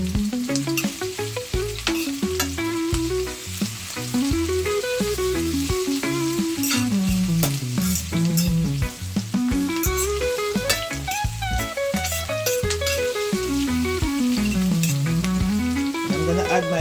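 Three cloves of garlic frying in a pan for brown stew king fish, a steady bright sizzle running throughout beneath a constant melodic music track.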